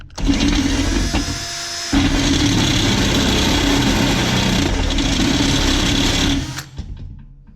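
A power drill drilling metal with cutting fluid on the bit whines steadily for several seconds at close range, dipping briefly once, then spinning down and stopping.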